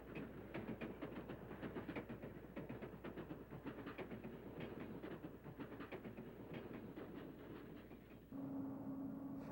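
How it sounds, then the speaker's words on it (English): A GG1 electric locomotive and train roll past steadily through Harrisburg station, with rhythmic clickety-clack of wheels over rail joints and a low electric hum, then a brief steady tone near the end. "another GG1 is pulling west on track 5 in the Harrisburg station"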